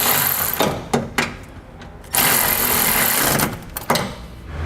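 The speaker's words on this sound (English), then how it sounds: "Then we'll tighten them into place using a 15mm socket." A hand ratchet with a 15mm socket tightens suspension bolts on a 2015 Ram 2500 while a suspension enhancement system is fitted, giving bursts of close metallic clicking separated by short pauses and sharp clacks, with no talking.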